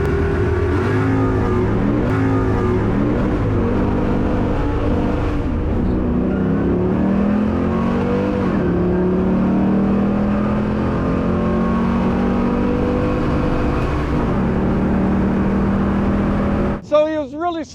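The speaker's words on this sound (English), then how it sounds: "He spun the tires all the way out, and that's going to kill the whole first part of that drag pull." A drag car on street tires launches off the line at a drag strip and spins its tires, loud engine roar and revving rising and shifting over a long pull while a commentator talks throughout.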